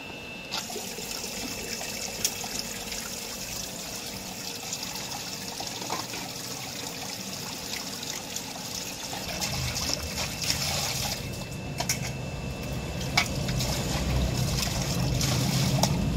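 Water is splashed and poured over utensils in a basket in a village home, a steady trickling and splattering that grows louder and heavier toward the end.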